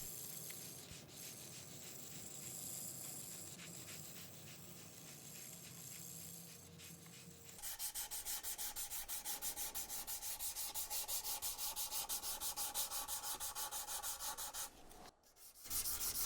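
400-grit sandpaper rubs back and forth across a violin fingerboard in quick, even strokes, a soft close hiss that turns faster and brighter partway through.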